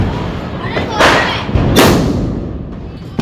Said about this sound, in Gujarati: સુતરી બોમ્બ છે ને પણ એક નંબર અવાજ આવે છે